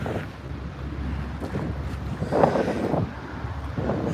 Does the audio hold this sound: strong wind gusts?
yes